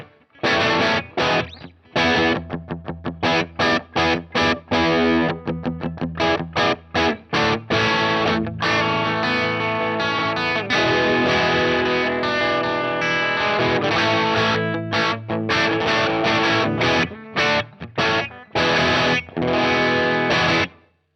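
An electric guitar runs through an IK Multimedia Orange Tiny Terror amp model, heavily distorted and boosted, playing chugging palm-muted riffs with choppy stops and sustained chords, loud and dense throughout.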